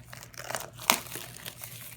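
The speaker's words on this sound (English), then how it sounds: "Let's get right into unwrapping." Plastic wrap around an AirPods box crinkles and tears in a few brief, close rustles with one sharper crackle, and no one talks.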